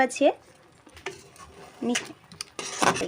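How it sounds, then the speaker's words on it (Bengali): Pointed gourd sautéing on a low flame with powdered milk in the pan: a few separate bursts of spoon scraping and stirring against the pan, with soft sizzling in between, close and moderately loud. "ফ্রাই করা যাবে না লো ফ্লেমে আমি কষিয়ে নেব দু মিনিটের মতো"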